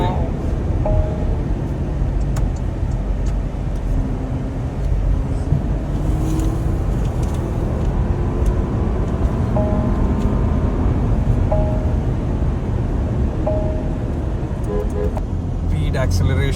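A Porsche accelerating along a road gives a steady, loud engine and tire roar with road noise throughout, while people talk over it in the cabin.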